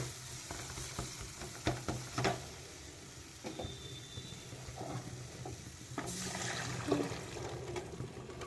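Chickpeas fry with salt, turmeric, sugar and chilli powder in a pan, making a low, steady sizzle with scattered clinks and scrapes of stirring, quiet and close.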